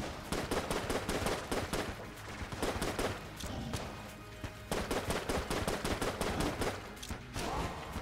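Rapid bursts of gunfire from an eye cannon weapon in the video game Enter the Gungeon rattle almost continuously, loud and close, with brief pauses between volleys.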